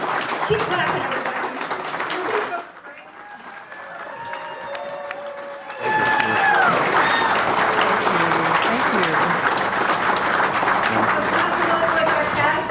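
Audience applause at a live War of the Worlds radio-theatre show, loud at first, then thinning to a quieter patch with voices and tones, then swelling back to full, sustained clapping.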